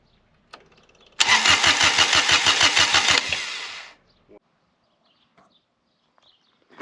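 A 1986 Cub Cadet 1512 diesel tractor with a 15 hp three-cylinder liquid-cooled Kubota D600 engine cranks in a rapid, steady rhythm for about two seconds, then fires and runs briefly before winding down, loud and close.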